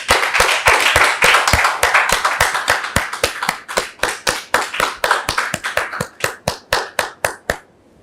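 A small group claps, brisk at first and thinning into slower, scattered claps before stopping.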